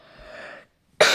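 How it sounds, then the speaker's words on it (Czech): A person with a cold coughs, a softer rasping cough followed after a brief silence by a sharp, loud close-up cough. "Furt mám kašel, sorry."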